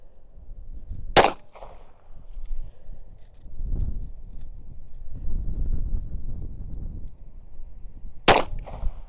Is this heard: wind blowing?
yes